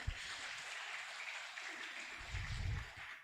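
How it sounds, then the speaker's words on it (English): A conference audience on Islamic economics applauds a speaker, a soft, distant patter of clapping hands running evenly, with a few low thumps near the start and end. "Please give big applause to Dr. Sutan."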